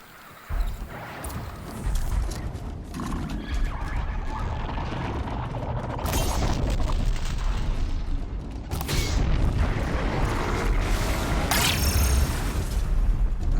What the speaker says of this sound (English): even if you shoot like a frozen canister with a frozen thing, it'll make a frozen explosion